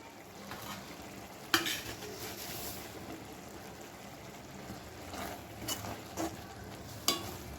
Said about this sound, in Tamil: எல்லாம் மிக்ஸ் பண்ணிக்கலாம்.